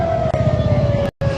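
An ambulance siren wails steadily near the scene of an incident at the Sarinah Thamrin intersection in Jakarta, a loud sustained tone over traffic rumble that cuts out briefly near the end.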